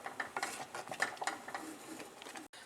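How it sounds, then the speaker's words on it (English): Semolina being stirred into milk in a pan, a utensil scraping and clinking against the metal in quick, busy strokes, fairly quiet and close. "So we need to keep mixing it until it's cooked or boiled."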